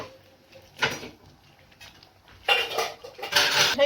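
A spoon scraping and clinking against a pot while a thickening mixture is stirred for a Burmese tea-leaf salad, with a few irregular bursts of close scraping and light tapping.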